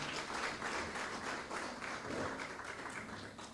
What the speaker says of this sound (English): Can we please get another round of applause for our chairperson?